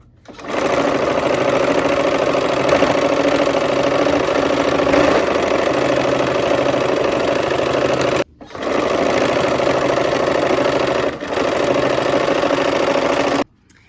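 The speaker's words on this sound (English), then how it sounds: "We're sewing our rows together here, assembly line." A sewing machine stitches quilt rows together in long continuous runs, a loud close whirring hum that stops briefly twice before starting again, with no talk over it.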